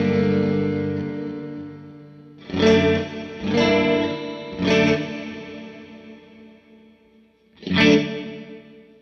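A metallic digital guitar effect preset on an Eventide H90 pedal colours a sustained chord, then four separate strummed hits ring out with shimmering, chorus-like decaying tails.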